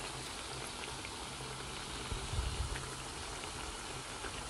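Chicken pieces seasoned with pepper and salt frying in hot oil, a steady dense sizzle and crackle throughout with a slightly louder bubbling surge midway.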